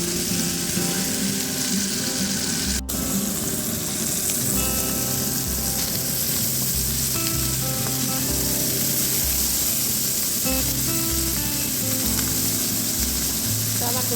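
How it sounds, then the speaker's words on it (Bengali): Prawns sizzling in a hot kadai as they are stirred and fried, a dense continuous crackle with a sharp click near the start, close and steady throughout. "এবার ভালো করে নেড়ে চিংড়িগুলোর সঙ্গে ভাজি করে নেব।"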